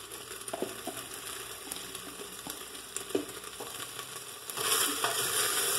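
Chopped red onion sizzles and crackles steadily in a hot pan, with a few soft stirring scrapes; the frying grows louder and brighter near the end, with no talking.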